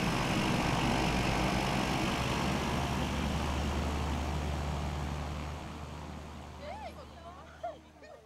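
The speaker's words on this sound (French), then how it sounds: "Ce que tu aimes le plus de cet avion, c'est son bruit de moteur à turbine, surtout quand il fait l'inversion de poussée à l'atterrissage." Cessna Grand Caravan turboprop landing with reverse thrust, a loud broad roar that gradually fades and drops away, with people's voices emerging near the end.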